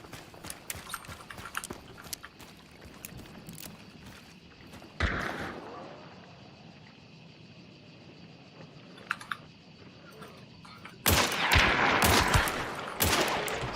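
Shotgun gunfire in a video game: a loud burst of blasts, then a denser cluster of heavy shots.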